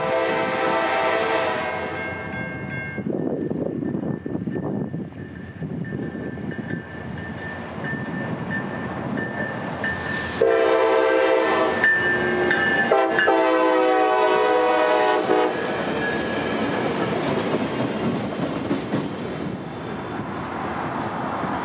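CSX freight train L755 on the Brooksville Subdivision sounds loud, sustained horn blasts as it rolls past, with rumbling wheels and rail noise continuing between and after the horn calls.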